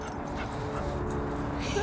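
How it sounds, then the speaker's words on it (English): Dogs whimper and yip close by in a short burst at a dog park beside the South Saskatchewan River, over a constant outdoor background. "Wilderness dogs in here."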